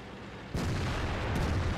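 Tank cannon fire in World of Tanks: a single sudden loud blast hits after a brief low hum, leaving a sustained booming roar that rings on to the end.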